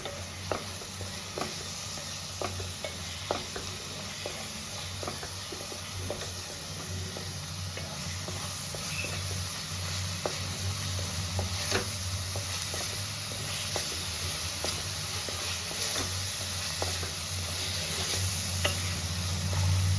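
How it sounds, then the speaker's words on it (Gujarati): Cream being stirred into a gravy in a pan, heard as a continuous sizzle with regular light scraping ticks of a spoon, close and steady, with no talking. "હવે આપણે મલાઈ નાખીશું અને આપણે એને હલાવી નાખશું"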